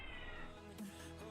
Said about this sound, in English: those cats can be heard on this mic.